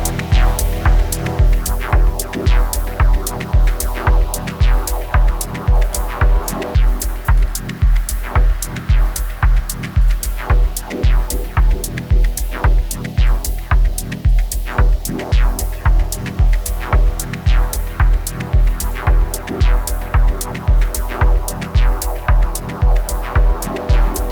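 Full dub techno mix plays loudly with a steady thumping four-on-the-floor kick and pulsing rhythmic chords throughout, dense and continuous with no talking.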